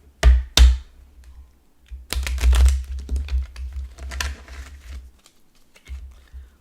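Tarot cards are shuffled by hand in quick riffling bursts: two sharp snaps at the start, then a longer crackling run of flicks and taps, and a final brief shuffle.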